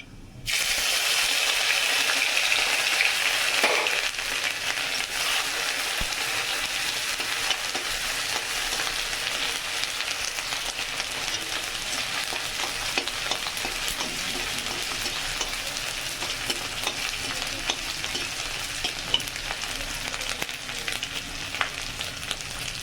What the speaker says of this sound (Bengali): হালকা একটু ভাজা করে নেব